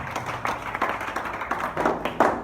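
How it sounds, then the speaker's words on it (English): A church congregation claps along, with sharp hand claps landing at an uneven, roughly rhythmic pace, fairly close and loud, and some faint voices mixed in. "Clap your hands together for Jesus."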